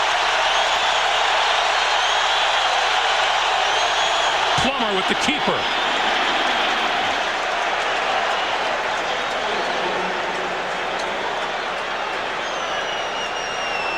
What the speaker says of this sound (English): With this crowd noise, because it is loud, and I hope you can hear it at home because I can hear it here